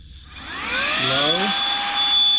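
A handheld air blower accessory on a Saker 3-in-1 vacuum cleaner spins up from quiet to a steady, loud, high-pitched whining rush of air that holds on close by.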